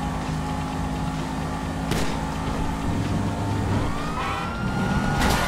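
A police car siren wails through a chaotic GTA Online street scene, with engines, crashes and gunfire-like bangs piling up; the siren is steady but partly buried under the loud game mix.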